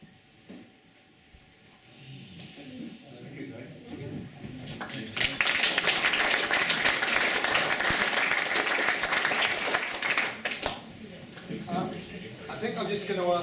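An audience claps and cheers loudly for four speakers at a heritage night gathering, the applause building from scattered claps into a dense, sustained ovation that fills most of the clip before tapering off.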